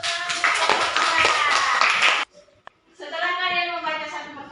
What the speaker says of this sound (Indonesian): Iya, kasih dulu tepuk tangan.